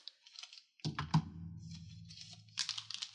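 Scissors snipping open a Digimon Card Game Great Legend BT04 booster pack: a soft rustle of foil, then one or two quick, crisp snips close by, followed by faint crinkling, with no talking.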